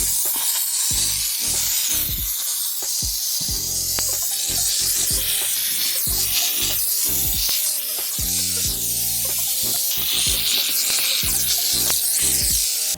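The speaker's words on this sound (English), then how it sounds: "we should be able to make quick work of that with the steamer." A steam cleaner works over grimy stains in a Hyundai car interior, a loud continuous hissing spray mixed with scrubbing and rubbing noises throughout.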